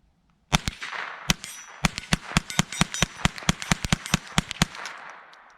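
A Winchester Wildcat .22lr semi-automatic rifle firing a rapid string of roughly twenty sharp cracks outdoors in chilly weather, the shots coming in quick uneven succession with the action cycling each round, loud and close.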